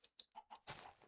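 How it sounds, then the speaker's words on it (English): A chicken in Minecraft clucking in a quick string of short, close, moderately quiet calls, with no talk over it. "But I need the chicken right now."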